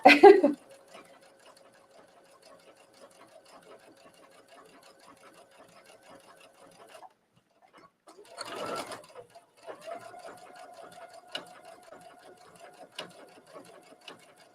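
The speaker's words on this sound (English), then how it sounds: "you notice I'm stitching a little bit slower. You know, when you're doing the triple stitch, it goes back and forth" A sewing machine runs a slow back-and-forth triple stitch on trench-coat fabric, humming steadily in two long runs split by a brief rustle of handling, with faint mechanical ticking throughout.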